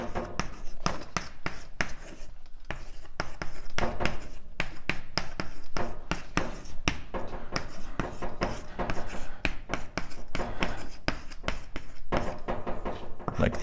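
Chalk or marker scratches and taps across a board during a cosmology lecture, a busy run of short strokes and clicks, close and steady, with a lecturer's voice intermittently underneath.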